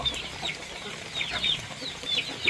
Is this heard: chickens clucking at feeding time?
yes